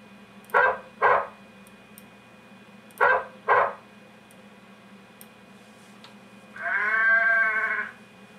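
Sheep Dog, an iPhone video game, gives two pairs of short clicks, then a single bleat from a game sheep near the end, clean and close against a low steady hum.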